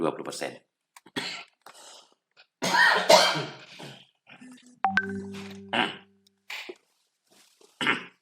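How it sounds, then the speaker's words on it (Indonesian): A person talks in short phrases, then coughs and clears their throat a few times, with a brief tonal chime partway through. "Maaf, ada batuk sedikit."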